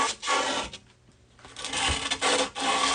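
A blade scoring grip tape along the edge of a pro scooter deck makes loud, rasping strokes up close, a few drawn-out scrapes separated by a brief pause, with no talking.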